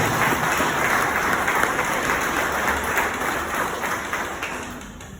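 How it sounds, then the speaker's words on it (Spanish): An audience applauds at a book presentation, with dense, steady clapping filling the room before it gradually tapers off toward the end. "Me refiero a Simón de la Cruz, a quien pido también fuertes aplausos para todos"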